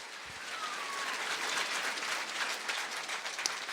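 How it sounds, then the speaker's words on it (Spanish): Church congregation clapping together in a sustained, even patter that fills the room for a few seconds, close and fairly loud, with no speech on top. "Fuerte aplauso iglesia"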